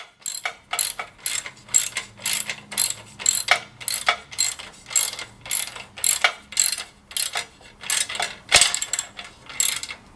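Socket wrench ratcheting a nut while a VEVOR 3-in-1 hand trolley cart is assembled, giving bursts of sharp rapid clicking from the pawl repeated in a steady rhythm, close and loud, with no talking.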